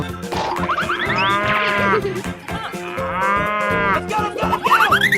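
Two long cartoonish cow moos from a video game escape-room challenge, loud and close, with busy game music and effects playing underneath throughout.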